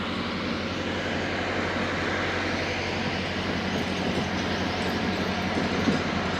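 The Thal Express train at a railway station gives off a continuous, even, broadband rumble and hum that holds steady throughout, close and moderately loud, with no talking.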